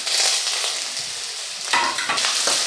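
Ginger and garlic frying in hot oil in a pan, a steady loud sizzle with brief stirring scrapes, no talking.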